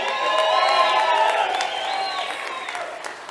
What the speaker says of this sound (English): Let's clap it up for Jenna.